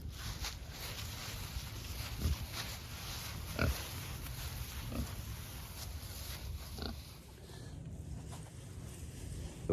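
Pigs root and grunt in leaves and compost outdoors, with soft rustling, occasional snorts and scattered close thumps across the stretch and no talking.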